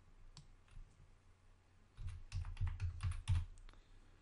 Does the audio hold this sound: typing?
yes